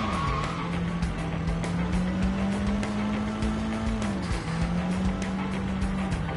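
A car drifts in the video game Sleeping Dogs, a long sustained tire squeal with a wavering pitch over a constant engine drone, loud and continuous with no talking.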